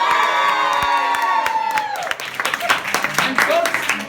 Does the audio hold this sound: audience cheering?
yes